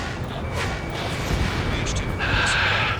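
Anti-aircraft fire in the Ace Combat 7 air-combat game, a loud continuous rumbling barrage of low booms and blasts, dense and unbroken, with radio chatter voices mixed in over it.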